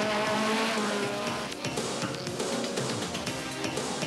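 BMW and Lancia rally cars duel at the 1987 Tour de Corse, their engines roaring loudly and continuously at high revs with tire noise on the road stage, dense and close throughout.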